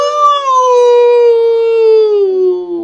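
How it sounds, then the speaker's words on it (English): Werewolf howl in a fantasy dragon story: a single long, loud, sustained tonal wail that slowly falls in pitch over about three seconds, heard alone. "The howl was louder this time."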